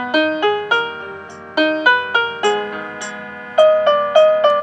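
A classical demo tune plays on a Pastel PL50 electronic keyboard, a bright piano-like melody of quick, evenly plucked notes with chords beneath, clear and close with no voices.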